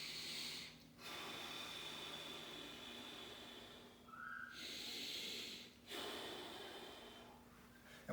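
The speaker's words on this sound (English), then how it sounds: "Big breath in." A deep breath drawn in during a core and hip exercise stretch, heard as long airy inhales and exhales, close and fairly quiet, repeating over several seconds with no talk.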